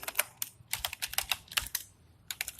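Code being typed on a computer keyboard: close, crisp key clicks in quick irregular bursts with short pauses, heard alone.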